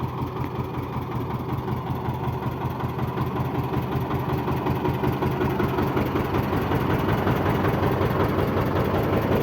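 A small tractor engine idles steadily nearby, a low rhythmic chugging rumble that runs unchanged throughout.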